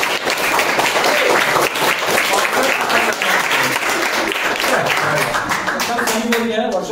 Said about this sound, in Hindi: बहुत अच्छा, इसके लिए जोरदार ताली।